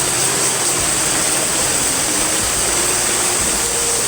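A waterfall called Danger Jharna roars as a steady, loud, unbroken hiss of falling water, with no voices over it.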